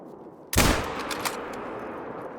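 A single sharp gunshot fired at dynamite in theHunter: Call of the Wild, loud and sudden, then a lingering rumbling tail and a few faint crackles fading out. No voices.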